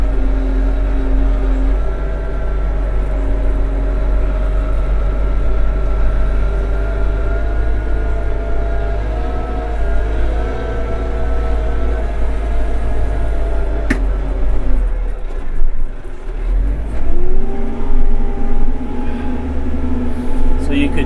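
Kioti tractor loader working gravel ruts, a continuous loud engine drone with shifting tones as it moves, and brief gravel noise near the end.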